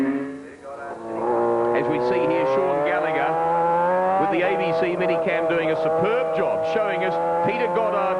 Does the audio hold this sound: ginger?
no